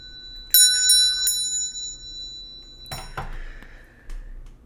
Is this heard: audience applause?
no